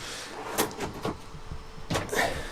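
A deep drawer in a Peugeot Boxer camper van slides open, with a few sharp knocks and a rumbling glide, close and fairly loud, with no talking.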